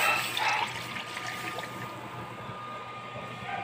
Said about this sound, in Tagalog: lagay na natin yung tubig